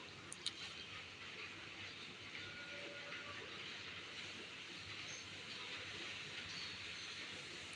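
Hot spice tempering poured into cooked lentil dal gives a faint, steady sizzle and hiss that continues without a break, with no voices.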